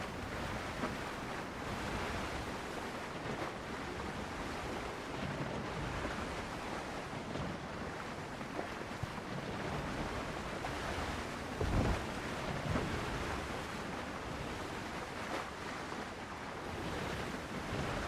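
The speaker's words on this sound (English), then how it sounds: "Look at us sailing along in our big sailing ship." A large sailing ship glides over open ocean in Windrose, giving a steady broad wash of waves and wind that holds at an even, moderate level with one brief swell.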